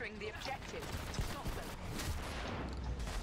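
Explosions and rapid gunfire during a match of the online shooter Dirty Bombs, a chaotic cluster of sharp bursts and crackling shots at moderate loudness, mixed with game effects and faint speech.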